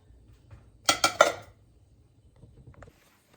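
A set of white Mikasa ceramic dishes is handled during unboxing, with several quick clattering clinks close by, followed by a few faint light knocks and a quiet room.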